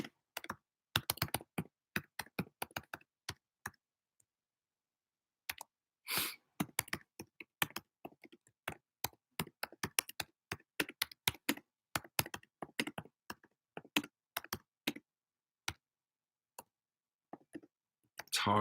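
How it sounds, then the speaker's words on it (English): Bursts of keystrokes on a computer keyboard inside a rideshare car, irregular clusters of crisp clicks with short pauses between runs, close and fairly quiet, with no voices over them. "It's hard to type when the keyboard's all the way up here."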